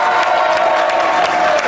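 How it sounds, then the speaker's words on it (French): A crowd applauds and cheers for actor Richard Dean Anderson during a live radio session at the Toulouse Game Show convention, a loud, brief burst of mixed clapping and shouts. "On va applaudir Richard Lynn Anderson pour son immense carrière"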